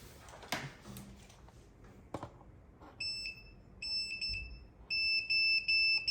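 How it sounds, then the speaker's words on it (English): A handheld voltage tester held against a wall outlet gives several bursts of high, piercing beeps that grow longer and more frequent toward the end, after a few soft handling clicks and knocks. "this one beeps when you put it up against a socket"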